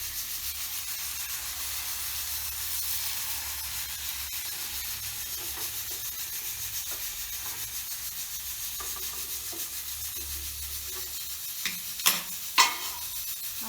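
Appam batter poured into a hot pan gives a loud, continuous close-up sizzle and hiss, with a few sharp clicks near the end.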